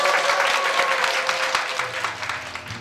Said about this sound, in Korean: 우리 가족분께 다시 한번 큰 박수 부탁드리겠습니다.